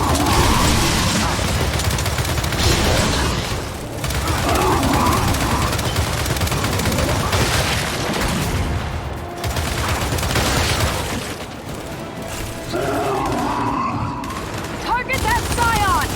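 Sustained gunfire rattles through a Gears 5 campaign battle, with bursts of shots over loud combat noise and shouted voices.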